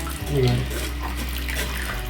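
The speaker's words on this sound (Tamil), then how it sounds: "இப்போ இதை வடிகட்டிக்கோங்க வடிகட்டிட்டு கொஞ்சம் போல பச்சை தண்ணி ஊற்றிக்கோங்க" Water pouring and splashing as cooked red rice is drained through a strainer and rinsed in a kitchen, a continuous running-water wash with a low hum underneath and faint talk.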